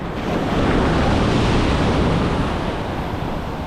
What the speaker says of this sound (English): look at these walls of water